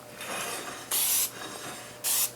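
Two loud bursts of butter-flavor cooking spray onto a baking dish, each about a third of a second, hissing sharply over a quieter steady background.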